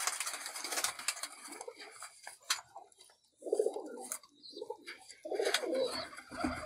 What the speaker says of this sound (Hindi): ये देखिए ये कबूतर है सियालकोटी